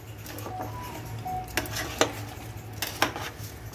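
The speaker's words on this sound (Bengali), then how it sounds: "এবার এটা আমি সুন্দর করে নাড়িয়ে দেব।" Chicken pulao is stirred in a cooking pot with a utensil. Soft scraping and a few sharp clinks of metal against the pot sound over a low steady hum.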